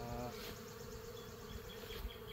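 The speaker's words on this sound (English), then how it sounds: "Bees are definitely up in this super." Honeybees buzz inside a hive super during a summer split, a dense, close, continuous droning hum that stays even throughout.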